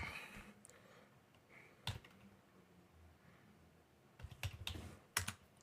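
A password is typed on a computer keyboard: faint, sparse key clicks, with a short cluster of quick taps near the end in a quiet room.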